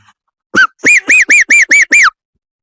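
Seven quick, harsh parrot-like squawks in a steady rhythm, close and loud, made by a person's voice imitating the bird, with no talking.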